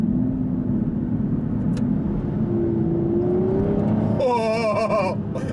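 An Aston Martin V12 Vantage supercar with a 5.9-litre V12, driven in Sport mode, hums steadily and then surges into a loud, rising acceleration that climbs sharply in pitch near the end.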